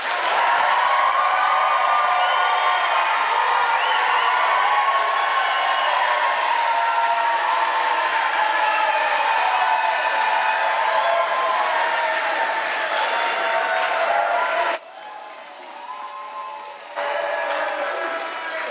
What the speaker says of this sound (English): please try and limit your applause so we can get through all these questions